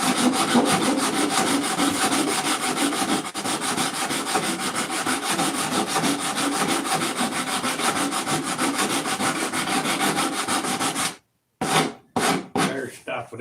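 Wood is sanded by hand on a sanding block with 80 grit paper, a loud, continuous rasping scrape of rapid back-and-forth strokes, then a few short separate strokes after a brief pause near the end.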